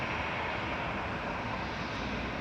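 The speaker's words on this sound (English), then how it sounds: "So that was EasyJet off to Malta, A320 GEZ PV, flight 2273" EasyJet Airbus A320 departing Manchester Airport for Malta, a steady broadband jet engine roar filling the whole stretch at even loudness, heard from a distance with no voices.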